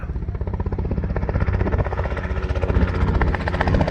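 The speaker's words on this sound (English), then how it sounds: "It's a helicopter" A helicopter's rotor chops in a fast, steady pulse over the Simpson Desert during the 2022 Finke Desert Race, loud and close, with engine drone underneath and no talking.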